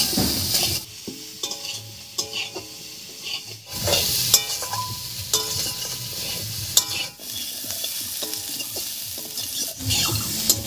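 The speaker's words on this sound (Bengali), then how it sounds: "এই অবস্থায় আলুগুলোকে একটু ভাজা ভাজা করে নেব।" Potatoes fry in a pan with salt and turmeric for a Bengali fish curry, a continuous sizzle broken by repeated scraping and clinking stirs, close and fairly loud, with no talking.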